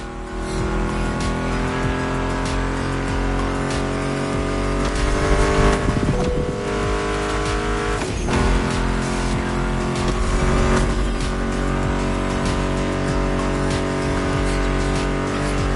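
Muscle car engines roar and rev steadily in a racing video game, with tire squeal and skidding bursts mixed in over a continuous loud engine drone, no talking.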